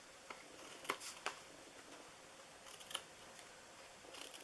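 Scissors snip into the flaps of a paper treat box: a few soft, crisp cuts spaced irregularly against a quiet background, with no talking.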